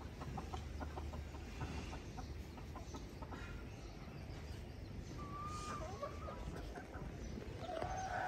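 Hens cluck anxiously in quick repeated calls, nearby and steady, while a few thin whistling bird notes cut in toward the end.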